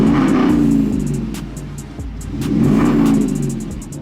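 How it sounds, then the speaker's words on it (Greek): A BMW 330e hybrid's engine revs up twice, rising and falling in a throaty hum, close by and with no voices. "Πατώντας γκάζι ανοίγει κανονικά και δουλεύει σαν να είναι ο κανονικός κινητήρας εσωτερικής καύσης"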